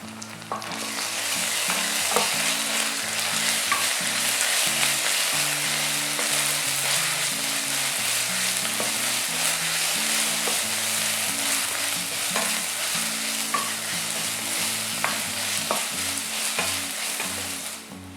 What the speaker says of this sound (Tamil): அது வதங்குற டைமில் அப்படியே இஞ்சி பூண்டு விழுதையும் சேர்த்து வதக்கிடலாம்